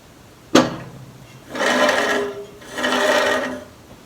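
A Craftsman 12-inch vertical bandsaw makes a sharp knock, then two separate bursts of rough, grinding mechanical running, each about a second long, close and fairly loud with no talking.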